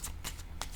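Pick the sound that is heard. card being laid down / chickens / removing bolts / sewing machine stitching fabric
card being laid down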